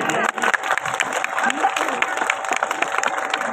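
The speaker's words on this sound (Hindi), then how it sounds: "जोरदार तालियों से स्वागत करिए।" Audience applause at a school drama event in Ranibag, loud and continuous clapping from a crowd filling the hall, with scattered voices and cheers underneath.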